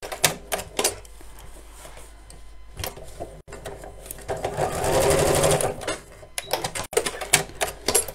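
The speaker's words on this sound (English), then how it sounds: "I'm not sewing over pins, I don't do that." A domestic sewing machine stitches a row through fabric for a child's apron, running in several bursts of rapid mechanical chatter with pauses between, one long sustained run in the middle, fairly close.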